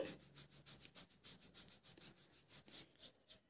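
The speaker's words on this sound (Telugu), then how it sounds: "ఇలా బ్రష్ చేసేటప్పుడు మీకు ఫిఫ్టీ పర్సెంట్ అయితే వచ్చేస్తుంది" Rhythmic bristle strokes of a brush scrubbing dried old mehndi off skin, about twenty quick even rubs in a steady back-and-forth rhythm, close and soft, with no talking.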